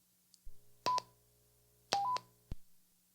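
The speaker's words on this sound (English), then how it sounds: "You have beginning and end of transmission." Two sets of short electronic tones from a Wouxun KG935G handheld radio mark the beginning and end of a transmission, each with a quick two-tone beep framed by clicks and a low hum. The sounds are faint and close.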